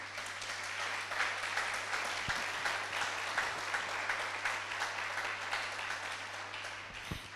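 A church congregation applauds for the Lord during a French sermon, steady dense clapping sustained for several seconds with a low electrical hum beneath.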